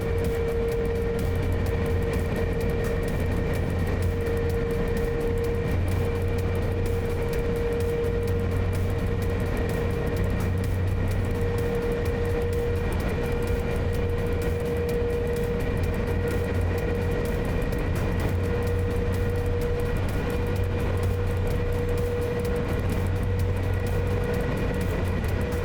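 Freight train rolling in the SimRail simulator, a steady drone of engine and rail noise with a low rumble and a constant mid tone, holding even and continuous throughout with no voices.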